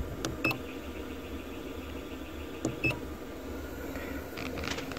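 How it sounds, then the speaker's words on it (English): Emergency alarm in a MACY-PAN HP1501-75 hard-type hyperbaric oxygen chamber gives short electronic beeps, a pair of bright tones near the start and another pair midway, over a steady low hum. "Here's an emergency alarm."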